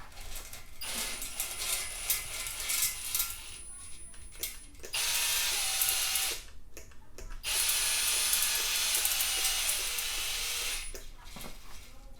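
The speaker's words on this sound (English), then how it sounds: "we'll run the hone through there and see what we get" A ball hone is run through an oiled engine cylinder, giving a steady whirring, grinding drill-driven noise in bursts with short pauses between runs, close and loud, with no talking.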